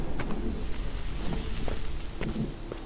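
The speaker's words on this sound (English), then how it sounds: "It's raining and there's thunders going off and lightning." Rain falls steadily in a scary area of a survival horror video game, a constant wash with a low thunder rumble beneath and scattered brief cracks.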